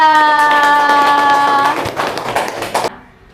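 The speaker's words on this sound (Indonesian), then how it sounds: "beri tepuk tangan untuk kelompok 3" In a classroom, a sustained voiced tone gives way to a brief burst of hand clapping from students applauding a group, scattered and close, lasting about a second before it stops.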